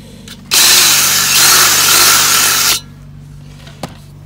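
A power drill enlarges a 4mm rivet hole in a greenhouse rain gutter, a single continuous whirring burst of about two seconds, loud and close, with a small knock afterward and no talking.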